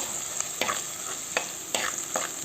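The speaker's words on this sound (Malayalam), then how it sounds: "നമുക്ക് നല്ലതുപോലെ ഒന്ന് ഇളക്കി കൊടുക്കാം" Onions, fenugreek and curry leaves frying in a pan are stirred, giving a steady sizzle broken by several sharp scraping strokes of the spoon, close and clear with no talking.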